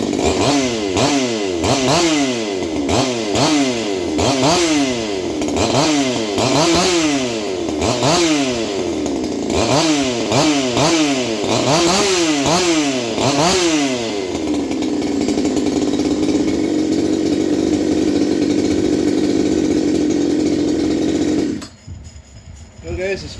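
A muffled reed saw engine runs close and loud with repeated rising and falling revs in a pulsing rhythm, then settles into a steady high idle before cutting off abruptly near the end.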